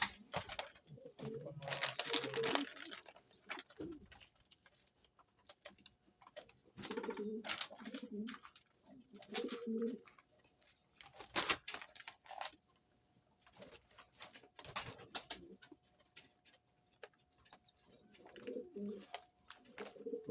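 Pigeons coo softly in short bursts during night feeding, low murmuring calls recurring every few seconds among faint pecking and tapping, fairly quiet and close.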